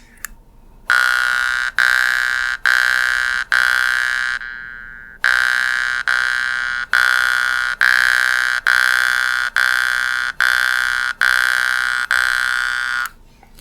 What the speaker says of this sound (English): Now we're going to pluck out,